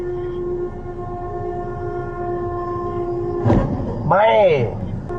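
A train slams into a white truck that failed to stop at a railway crossing: a sharp crash of impact follows steady train rumble, then a sweeping horn blast rises and falls over the continuing noise.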